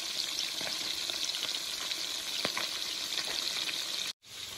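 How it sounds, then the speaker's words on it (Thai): Fish fries in oil in a rural home kitchen, giving a dense, steady close sizzle with scattered pops, cut by a brief break near the end. "ยายอ่ะทอดปลาซะก่อนนะครับ"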